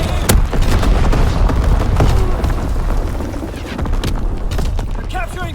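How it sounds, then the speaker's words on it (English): Loud artillery strike explosions in a WW2 video game, a dense rumbling barrage of booms and blasts that rolls on continuously, with voiced radio callouts heard over it. "Coordinates confirmed. Firing on target."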